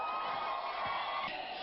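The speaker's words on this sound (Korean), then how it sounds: "여러분 박수!" A crowd at a political election rally cheering and applauding, a dense, steady wash of clapping and voices heard at a distance throughout.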